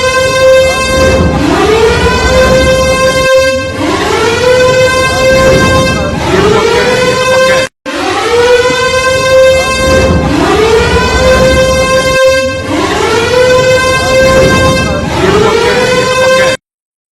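Air raid sirens in Sialkot, Pakistan, wailing loud and close in long rising and falling cycles with a brief cutoff midway, without voices.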